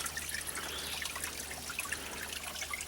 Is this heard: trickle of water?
yes